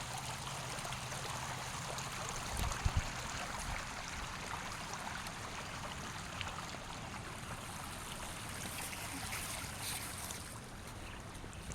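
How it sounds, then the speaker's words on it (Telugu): Water flows between rocks in a stream, an even, continuous rushing wash heard close and alone, with a couple of faint knocks early on. "ఇలా రాళ్ళ మధ్య నుంచి ఫ్లో అవుతున్న వాటర్ సౌండ్"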